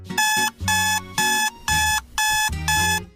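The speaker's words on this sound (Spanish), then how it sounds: "el sonido metálico y despiadado de un horrible despertador" A harsh, metallic alarm clock rings in six loud, bright bursts separated by brief gaps, close and alone with nothing else around it.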